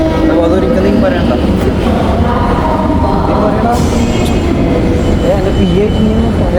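A Chennai metro train gives a loud, continuous rumble and rattle close by, with a steady rolling roar and a brief squeal near the end, and voices faintly mixed in.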